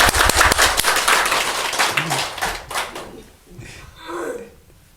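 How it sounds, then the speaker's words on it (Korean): A church congregation at an Easter service bursting into loud, dense applause that fades over a few seconds into scattered claps and a murmuring voice. "우리 다 같이 부활하신 예수님께 영광의 박수를!"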